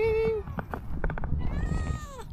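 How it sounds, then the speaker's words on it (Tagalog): A cat meows in a park on a cold early morning, several drawn-out cries rising and falling close by, with a person's voice calling to it softly in between. "May pusa dito."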